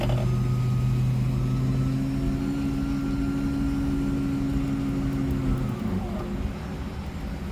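A 1966 Ford Mustang Convertible, C-code V8 with a transverse muffler, drones steadily at a loud, even idle or cruise, its low engine tone holding for several seconds before easing off near the end.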